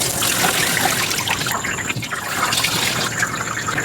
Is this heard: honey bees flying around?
no